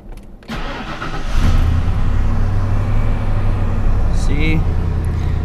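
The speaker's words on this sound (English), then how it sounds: "Okay, this is a cold start." A Ford F250 single-cab truck engine cold-starts with a brief cranking burst, then settles into a steady, loud low idle rumble recorded close by, with a short voice heard over it near the end.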